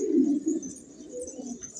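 Pigeons cooing in a loft of about seventy male birds, low throaty coos rolling in a few close, repeated phrases with no talk.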